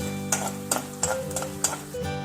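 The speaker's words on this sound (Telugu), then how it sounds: "ఇప్పుడు కొంచెం నూనె వేసుకోవాలండి ఇప్పుడు వేరుశనగపప్పు కొంచెం వేయించుకోవాలి" Peanuts frying in oil in a pan for a fox nut (makhana) mixture, with a steady close sizzle broken by several sharp clinks and scrapes of a stirring spoon against the vessel.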